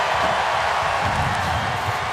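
Stadium crowd cheering at Boone Pickens Stadium during a TCU at Oklahoma State college football game, a steady loud roar of many voices filling the whole stretch without a break.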